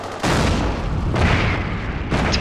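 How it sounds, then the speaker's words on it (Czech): A petard blast in the video game Forgotten Hope 2 booms loud and close, followed by further heavy explosions and rumbling battle noise in quick succession. "ten vybuch jak na Silvestra"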